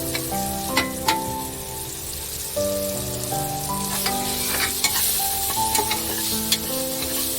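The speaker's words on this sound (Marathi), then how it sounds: "हे सर्व मसाले टाकून हलवून घ्यायचं आहे।" Spices including salt, turmeric, asafoetida and cumin powder are stirred and fried in a pan for paneer pulao, with a constant sizzle and repeated clinks of a spoon scraping the pan throughout.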